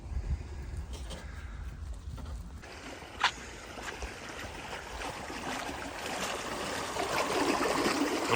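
Steady rushing irrigation water flowing outdoors into a wheat field, a continuous broadband wash that grows slightly louder toward the end, with one brief knock partway through.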